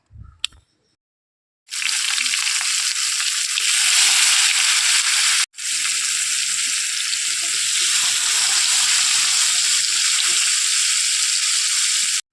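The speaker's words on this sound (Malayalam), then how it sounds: "മീൻ ഏതായാലും ഞാൻ പൊരിച്ചെടുക്കട്ടെ" Fish seasoned with pepper sizzles loudly in a frying pan in a home kitchen, a steady hissing fry that begins after a brief silence, drops out for an instant and then keeps crackling evenly.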